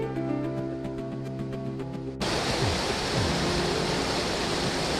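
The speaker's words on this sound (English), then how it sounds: "Finally, we are at the White Volta Rapid." Rushing water at the White Volta river rapids, a dense, steady roar of broadband noise that becomes fuller and louder partway through and stays constant to the end, with no voices.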